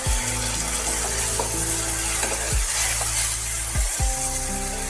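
Pasted tomato fries with spices in a pan for a pointed gourd and milk curry, keeping up a loud, continuous close sizzle broken by a few clunks of utensils against the pan, with no voices.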